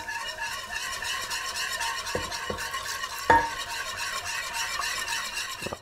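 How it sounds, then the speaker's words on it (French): Milk being whisked into a butter and flour roux for béchamel in a pan: steady, continuous scraping and stirring with a light sizzle, a few sharp clinks of the utensil against the pan, close and without voices. "Et je commence à additionner le lait."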